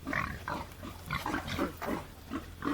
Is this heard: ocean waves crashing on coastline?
no